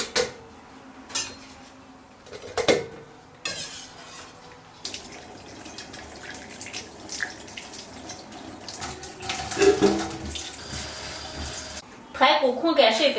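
Running tap water rinsing blanched pork ribs in a kitchen sink, with clinks of dishes and metal and intermittent splashing, close and moderately loud.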